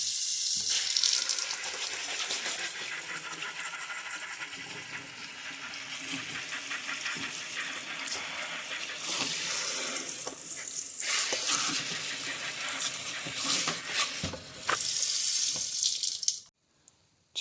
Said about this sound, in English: I am going to have to go ahead and wash these guys.